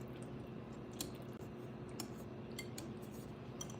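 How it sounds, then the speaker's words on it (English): Homemade buttermilk ingredients being whisked together in a bowl: soft, quiet clinks and swishes of a whisk against the bowl, with a few sharper taps spaced through the stretch and no talking. "So I'm gonna put about half of it and whisk this together."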